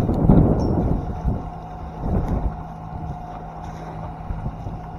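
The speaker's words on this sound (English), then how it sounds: "Now making 4 knots, 20 knots of wind on the nose." Beneteau 323 sailboat motoring upwind into a 20-knot headwind at about 4 knots, a steady engine drone with wind rush and water slapping against the hull throughout.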